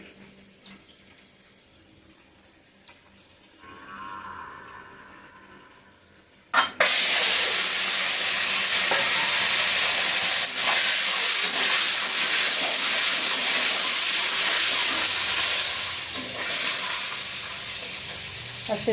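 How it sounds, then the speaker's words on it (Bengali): Duck eggs frying in mustard oil in a wok over medium heat, a loud, steady sizzle bursting in after several quiet seconds and continuing with crackles until the end. "এখন মিডিয়াম হিটে করে ডিমগুলি একটু ভেজে তুলে নিচ্ছি"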